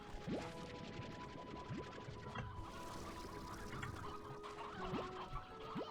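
Chickens cluck repeatedly in the ranch area of the video game Slime Rancher 2. The flock sounds dense and busy, with overlapping clucks running steadily over a bed of game ambience and no talk.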